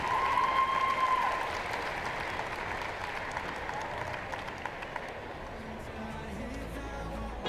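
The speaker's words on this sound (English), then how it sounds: "one last round of applause for our seniors" Crowd applause for senior players at a Hope vs. Kalamazoo men's college basketball Senior Day game fills a large gym, a broad sustained patter of many hands, fairly loud and fading a little after the first second.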